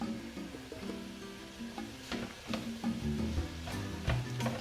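Chopped celery and broccoli fry in olive oil in a pan, a soft steady sizzle mixed with stirring knocks and scrapes, close and without talk.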